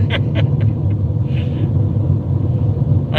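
A powerful car engine rumbles steadily at close range, a deep continuous low drone that holds evenly for the whole stretch without any talk over it.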